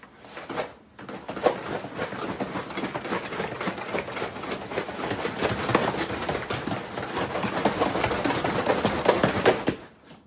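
Gear rattling inside a packed go-bag being shaken or carried at a run: a dense, steady clatter of small items knocking together that runs loudly almost without a break for about nine seconds, with no talk.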